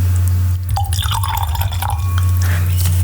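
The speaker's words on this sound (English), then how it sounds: "pour a little bit up." Wine poured into a glass makes a close, gurgling trickle with small splashes lasting a couple of seconds, over a steady low electrical hum.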